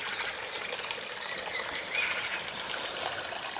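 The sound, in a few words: spring water flowing in a stream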